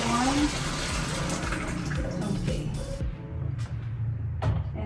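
Water being poured slowly into an Electrolux front-load washing machine gives a steady splashing gush that eases off toward the end, with a person talking over it.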